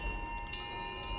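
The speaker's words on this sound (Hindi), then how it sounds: "ये घंटा है, ये तो घंटी है भाई" A large bell rings in the video game Resident Evil Village, a sustained metallic tone with lingering resonance over a low rumbling ambience.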